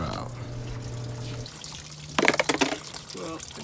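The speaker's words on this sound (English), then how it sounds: "I just took that bottom hose off and let it all pour out." Coolant from a 1996 Camry radiator splashes and gurgles out of the pulled bottom hose in a short uneven burst, close by, after a steady hum.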